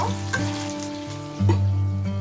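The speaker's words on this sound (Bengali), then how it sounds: "এইবার দিয়ে দিলাম ডুমো করে কেটে রাখা আলুগুলো আলুটা কিছুক্ষণ ভেজে নেব" Diced potatoes hit hot oil with a green chili in a pan and fry with a loud, steady sizzle, a brief clatter as they go in, close up with no talking.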